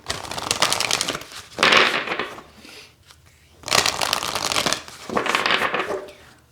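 Oracle cards being shuffled by hand in several loud, rustling bursts with brief quieter gaps between them, close to the listener, with no talk over it.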